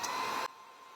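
Close, steady whoosh of an electric dryer blowing air over wet paint on a mixed media artwork, cutting off abruptly halfway through and leaving a faint hum.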